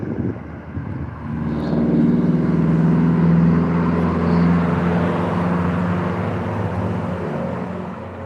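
A police K9 vehicle drives past on a town street on a Sunday morning, its engine and tire roar rising from a quiet start, holding loud and close for several seconds, then easing off as it passes.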